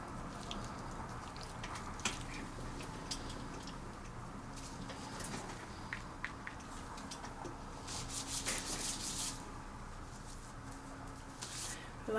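Hands rubbing a Phyto product onto a client's face during a facial treatment, soft continuous rubbing and brushing close by, under a steady room hum with occasional light clicks.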